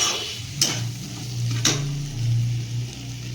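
Potatoes and figs frying in a spiced pan, stirred so that two sharp scrapes of a utensil cut through a steady low sizzle. Each scrape is close and loud, and no one speaks.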